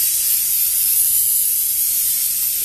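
3M spray adhesive hissing from an aerosol can while carpeting a subwoofer box, a steady loud close spray held for the whole stretch without pause.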